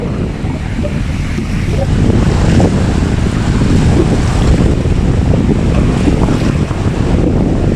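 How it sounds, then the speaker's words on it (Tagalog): Strong sea waves surging and crashing around a boat amid gusting wind buffeting the microphone, a loud, continuous roar. "kasi masyadong malakas ang alon dito"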